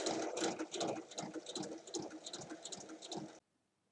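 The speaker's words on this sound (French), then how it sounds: "Je viens piquer sur la ligne" Sewing machine stitching along a marked line on fabric for a striped bag, a steady close whirring run with rhythmic pulses for about three and a half seconds, then stopping abruptly.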